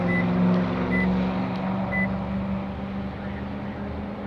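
A 2022 Toyota Tundra SR5 starts remotely: three short, evenly spaced electronic beeps sound over a low, steady truck engine hum that stays at the same level.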